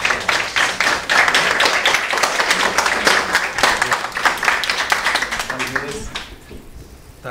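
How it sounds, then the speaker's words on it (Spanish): Audience applause following a talk at a parenting workshop, a dense, steady clapping that fills most of the clip at close range before tapering off into near silence at the end. "le damos un aplauso a Álvaro"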